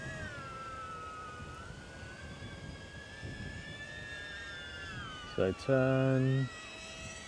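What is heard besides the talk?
DJI Neo drone flying in manual acro mode, prop wash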